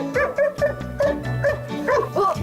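A search dog barks repeatedly in quick, loud, close bursts, about eight or nine barks in a rhythmic series with some yips mixed in.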